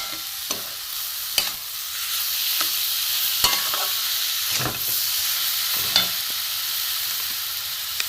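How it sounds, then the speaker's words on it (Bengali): Semolina and sugar frying together with grated carrot in a pan, a constant close hiss and sizzle broken by regular scraping strokes of a spoon stirring the mixture, with no voices. "এতে আমি কিছুটা সুজি দিয়ে দেবো, চিনি দেবো কিছুটা। এগুলো সব ভাজবো একসাথে।"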